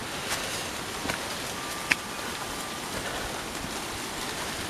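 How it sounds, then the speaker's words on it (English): Steady rain falls outdoors in a breezy garden, a constant even hiss of drops with a few faint louder ticks, close and continuous with no voices. "it's raining, as you can hear"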